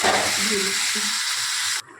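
Bombay duck (lote fish) sizzles as it hits oil fried with bay leaf, turmeric and green chilli paste. A steady, close hiss of frying runs with light stirring, then cuts off abruptly near the end.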